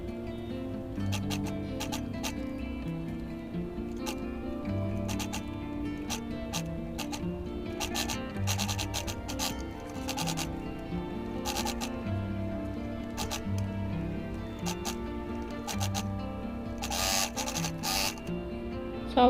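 A sewing machine stitches continuously around a fabric half moon pouch, a steady rapid mechanical whir and tick running close and unbroken throughout with no talking.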